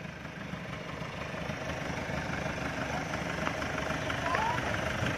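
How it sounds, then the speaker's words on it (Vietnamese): A 2005 Isuzu Hi-Lander's engine idles nearby with a continuous low rumble and broadband noise, holding an even level throughout. "xe máy nổ cực chất luôn"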